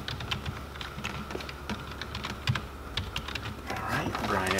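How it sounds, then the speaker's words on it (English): Rapid, close keystrokes on a computer keyboard while an email address is typed into a web browser to add it to a Konica address book, with an uneven run of clicks and a faint voice in the background. "and then type in your email address."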